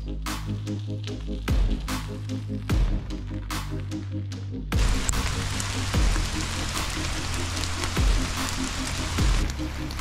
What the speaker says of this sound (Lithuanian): Vėl užklupo lietus mus.